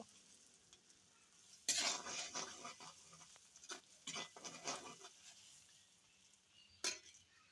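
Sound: stirring garlic paste in oil for pickle

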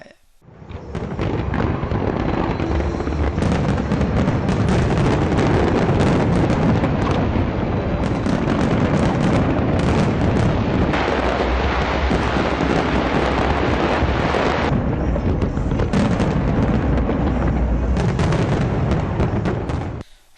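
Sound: New Year fireworks over the River Thames, London

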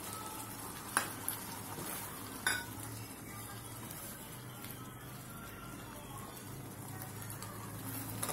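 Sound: adding cubed tomatoes to prawns cooking in a pan

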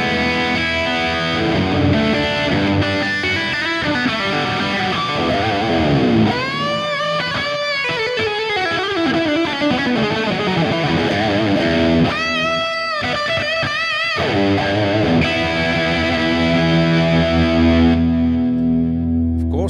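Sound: electric guitar through Fractal Axe-FX III preset with boost

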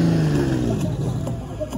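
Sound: classic Lamborghini engine revving

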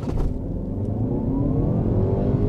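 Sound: Chery Tiggo 8 Pro Max accelerating hard in sport mode

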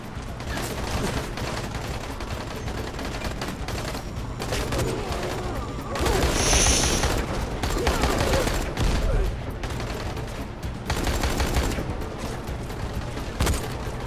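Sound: gunfire in the video game Dying Light

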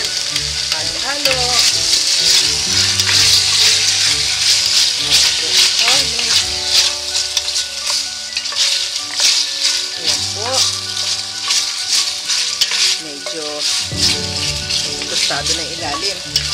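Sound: stirring simmering pork bones in a pot

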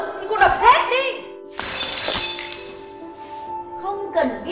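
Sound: something breaking, shattering glass

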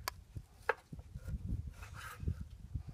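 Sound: knife cutting rack of lamb into riblets

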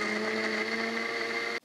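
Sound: Cuisinart Hurricane juicer and blender running

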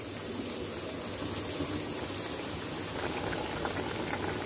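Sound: drumstick potato curry boiling in open pot

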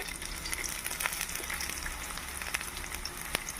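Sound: cumin seeds and onion frying in hot oil

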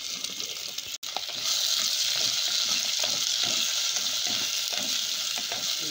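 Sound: garlic, ginger, onion and curry leaves frying in pan

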